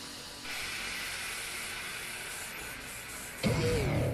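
A robot in an animation releases steam as a steady, broad hiss that holds for about three seconds before cutting off, followed by a brief louder mechanical whir.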